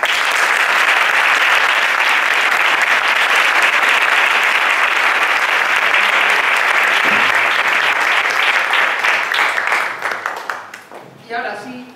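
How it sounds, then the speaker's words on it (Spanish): Audience applause at a religious procession proclamation ceremony, dense sustained clapping from a large crowd, loud and even for about ten seconds before thinning out into scattered final claps. "Un aplauso para ella."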